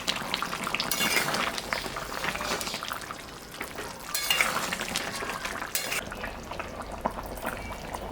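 Mutton curry, boiled through, is stirred in a pot at home, with bursts of spoon scraping and clinks against the metal over a steady bubbling simmer.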